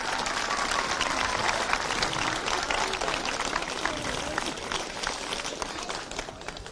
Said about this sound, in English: So get a round of applause, please, for Kinnegad GAA for making the facilities available to us.